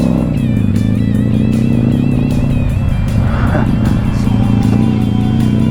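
A Kawasaki Vulcan Classic cruiser motorcycle rides along with a steady, loud engine drone that rises in pitch as it accelerates, accompanied by continuous wind rush.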